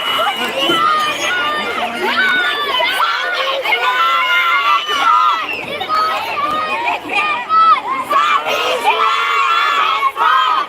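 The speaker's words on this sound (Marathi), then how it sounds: "हात करून टाळ्या वाजवतायत" A loud crowd of sixth-grade children cheers, shouts and claps together at close range in a dense, continuous roar of excited voices.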